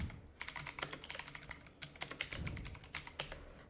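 Computer keyboard typing to rename a folder, a steady run of quick close key clicks with brief pauses, no talking.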